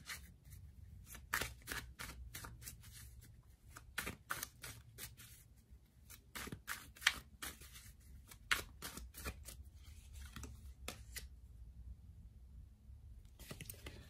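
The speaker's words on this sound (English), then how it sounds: "let's give the cards a good shuffle" Tarot cards are shuffled repeatedly, with crisp riffling flutters and soft taps in irregular bursts, close and quiet, with no talking.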